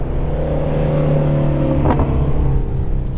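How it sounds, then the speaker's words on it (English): A Ford Mustang Shelby GT350's 526-horsepower flat-plane-crank V8 with its exhaust in loud mode, held in third gear on a racetrack: a steady, loud, close engine drone that rises slightly, with no talking. "I've got the exhaust in loud mode because obviously, yeah, 526 horsepower."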